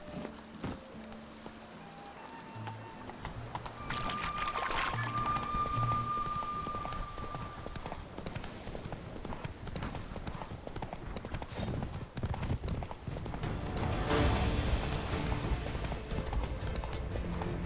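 Roach, the horse in Witcher 3, gallops with a steady, continuous clip-clop of hooves under game background sound, with a brief tonal whistle early on.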